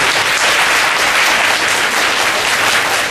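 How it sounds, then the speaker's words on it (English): A dense, steady burst of audience applause fills the hall at an educational program, loud and continuous with no talk over it. "A big clap for all of them."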